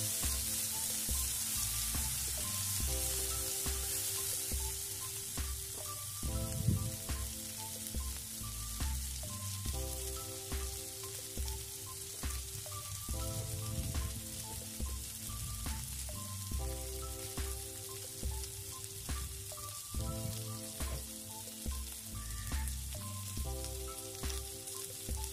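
Potatoes and onions frying in a pan, a steady close sizzle running throughout, with a repeating piano-like music melody playing loudly over it and no talking.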